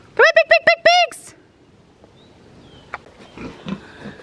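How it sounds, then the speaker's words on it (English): A voice gives five quick, rhythmic high-pitched calls to pigs on a farm pasture, followed by faint scattered grunts and rustling at a distance. "Come on, big pigs!"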